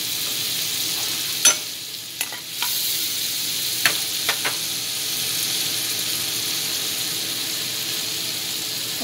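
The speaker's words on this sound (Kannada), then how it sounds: "ಇವಾಗ ಕಡಾಯಿಗೆ ಇವಾಗ ಫಸ್ಟು ನಾನು ಬೆಣ್ಣೆ ಹಾಕೋತಾ ಇದ್ದೀನಿ." Butter melting in a hot kadai, a faint steady sizzle with a few sharp clinks of a utensil against the pan, close and without speech.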